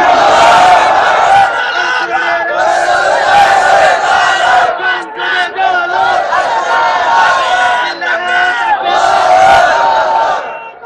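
A large crowd at a Bangla waz gathering roars back in unison to the takbir call, loud, sustained chanting lasting about ten seconds with rising and falling surges of many voices.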